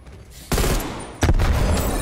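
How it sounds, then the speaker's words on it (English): Two short M16 bursts in Black Ops Cold War, each a loud, sharp rapid cluster of shots, the second coming about three-quarters of a second after the first, close and alone without talk. "Oh, M16. M16 burst, right?"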